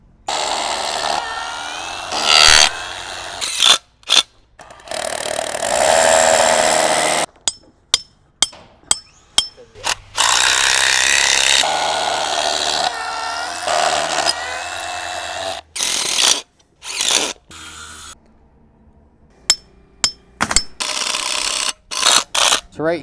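A power driver sinks Tapcon concrete screws through a porch post bracket into a concrete slab, with repeated loud bursts of whirring and ratcheting broken by short pauses and sharp clicks, close and alone.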